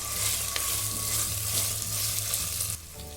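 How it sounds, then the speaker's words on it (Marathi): Cashew slices, curry leaves and chopped coriander hiss and crackle in a pan as they are stirred together, a loud close sizzle with utensil scrapes that drops off sharply near the end. "काजूचे काप कढीपत्त्याची पाने हे सर्व आपण यामध्ये मिक्स करू"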